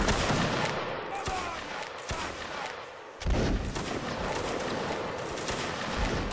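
Dense, continuous musket volley fire in the Napoleonic Wars game, with close and distant shots overlapping into a steady crackling roar and a short lull before it swells again.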